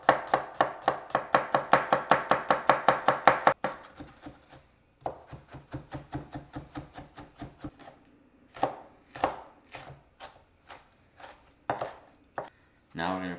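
A knife chops garlic and a serrano pepper on a cutting board, first in a fast, even run of sharp close taps, then slower, scattered cuts with pauses.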